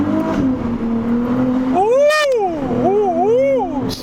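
A high-revving Ferrari 296 GTS turbocharged V6 hybrid engine roars in a tunnel, its pitch sweeping up and down in quick surges, loud and close, with a voice briefly audible underneath.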